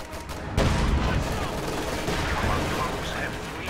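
Gunfire and machine-gun shots in a war strategy video game, a sudden loud blast followed by a continuous crackling rattle of fire that stays fairly steady in the mix.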